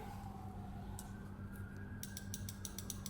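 Petrol car fuel injector triggered manually on a bench: a quick train of sharp, faint mechanical clicks in the second half over a steady low hum, with a couple of isolated ticks before it.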